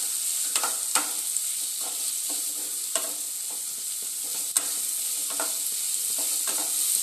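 Capsicum stir-fries in hot oil with spices in a pan, a steady bright sizzle with repeated light clicks and scrapes of stirring, close and alone.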